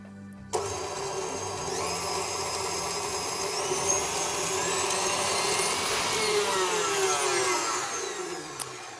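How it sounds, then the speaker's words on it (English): An electric stand mixer whirs steadily at high speed while beating black cake lace mixture, a continuous loud motor drone that starts abruptly and runs for about eight seconds with no talking. "we're going to mix for a couple of minutes on high"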